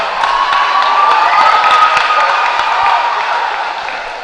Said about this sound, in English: we'd like to give these guys a round of applause for coming on out